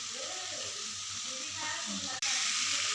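Ginger and garlic sizzle steadily in a hot pan while being stirred, a continuous close frying hiss with faint scraping under low background voices.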